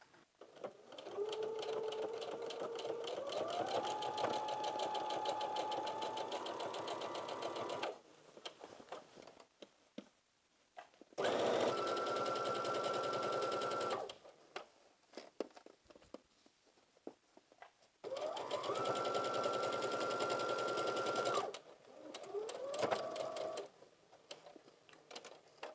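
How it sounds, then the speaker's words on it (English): Sewing machine running a 5/8 inch seam around an A-line skirt, close steady whirring stitch runs that rise in speed, in three long bursts with quieter fabric handling between. "we're going to go to the machine and insert a 5/8 inch"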